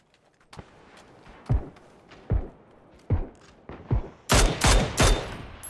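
Gunshots ring out in PUBG, several single spaced shots followed by a tight burst of louder rapid fire near the end, with faint background game sound between.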